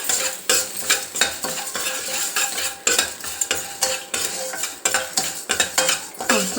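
Amla, salt and tamarind roasted in a pan with a spoon stirring continuously, a steady scraping sizzle broken by frequent sharp metal clinks, close and fairly loud with no talking.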